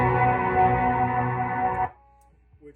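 Guitar run through a modified Pink Sky reverb pedal patch, a sustained washy chord ringing with ambient reverb for about two seconds before cutting off abruptly into near silence.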